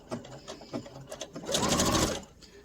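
A sewing machine stitches fabric for an infinity scarf, a few short stop-start bursts of stitching followed by a steadier, louder run of rapid needle clatter, close up.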